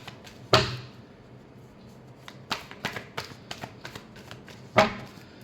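Tarot cards being shuffled by hand, with two sharp riffling bursts at the start and end and softer taps and card handling in between, close and fairly quiet with no talk.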